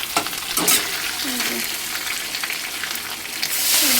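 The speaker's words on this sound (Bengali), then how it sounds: "তেলটা গরম হয়ে গেছে বন্ধুরা, শুটকি মাছগুলো দিয়ে দেবো। শুটকি মাছটা দিয়ে রাখবো। আর তেল ছিটকাচ্ছে।" Dried fish frying in hot, spattering oil in a pan, a steady close sizzle with sharp crackles and spits, and brief clatters of a utensil stirring partway through.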